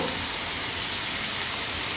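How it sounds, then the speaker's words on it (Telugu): Onions sizzle in hot oil in a pan, a dense steady hiss filling the whole short stretch, close and fairly loud with no talking. "ఈ ఆనియన్స్ సగం వేగిన తర్వాత ఉల్లిపాయ పేస్ట్ వేస్తాను"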